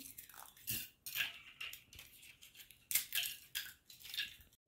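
Dried eggshells crushed by hand make repeated crisp crackling and crunching bursts, uneven in rhythm, quiet and close, with brief pauses between squeezes.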